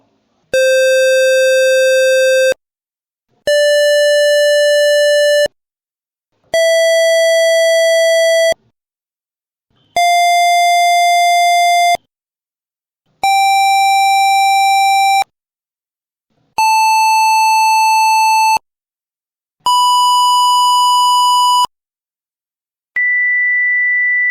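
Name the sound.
electronic tones changing with distance to wall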